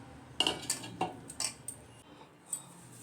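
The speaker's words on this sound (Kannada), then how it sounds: "ಈಗ ಇಷ್ಟನ್ನು ಕೂಡ ಮಿಕ್ಸ್ ಮಾಡೋಣ." A utensil clinks and scrapes against a bowl while semolina and potato dough is mixed, with a handful of sharp, separate metallic taps spread across a few seconds in a quiet kitchen.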